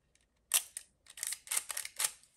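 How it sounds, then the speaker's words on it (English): A camera's leaf shutter snaps crisply and close, with a faint click followed by a run of four or five sharp shutter releases at a steady pace. "Okay, this is a leaf shutter."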